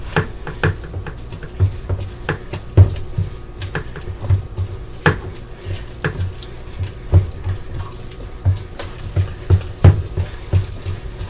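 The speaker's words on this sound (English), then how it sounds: "Let me rinse this off because I don't want to mix it in with that." Water runs from a kitchen faucet while a mixer attachment is rinsed off during red and green velvet cake making, a steady close splash broken by clinks and taps of the utensil against the sink.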